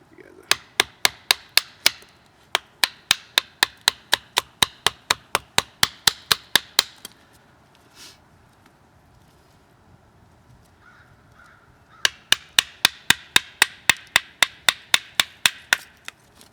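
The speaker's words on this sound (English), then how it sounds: "this wood is so hard, just doesn't even want to split down the middle" A knife is batoned into very hard wood with a steady run of sharp, woody knocks, about two per second and close by. A quiet pause follows before another rapid series of blows.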